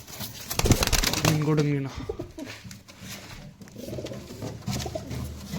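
Pigeons in a loft coo and scuffle in a fight, with bursts of wing flapping and rustling, close by and fairly loud, while someone talks over them.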